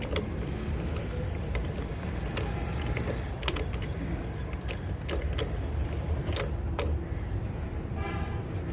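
A truck wheel nut remover tool is worked by hand, giving steady mechanical creaking and grinding close up, with sharp metallic clicks and clanks scattered throughout.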